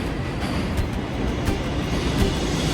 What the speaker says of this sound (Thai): ผมกำลังจะขึ้นรถไฟครับ